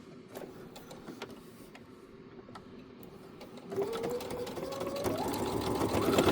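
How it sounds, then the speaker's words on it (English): A sewing machine runs steadily while topstitching down a 1/4 inch open seam, a continuous buzzing hum that starts moderate and grows louder and busier partway through, with no talking. "we'll go ahead and sew this top stitching down, catching that 1/4 inch open seam"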